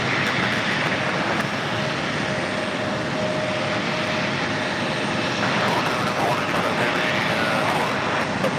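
A Delta Connection CRJ900LR regional jet arriving at JFK gives a loud, steady broadband engine roar that stays close and even throughout.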